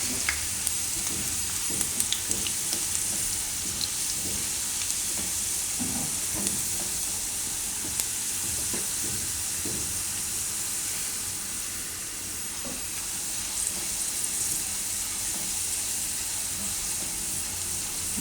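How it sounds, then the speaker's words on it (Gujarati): Garlic frying in hot oil for a Gujarati leafy greens and mung bean dish (tanjariya bhaji), a steady close sizzle with faint stirring scrapes running evenly throughout. "લસણને થોડુંક લાલ થવા દેવાનું એ તેલમાં એકદમ સરસ એની સુગંધ લઈ જાય"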